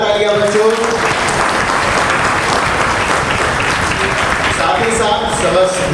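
Schoolchildren at a Kendriya Vidyalaya National Sports Day event applaud loudly and continuously, a dense close-up clatter with a few tonal voice sounds and cheers mixed in.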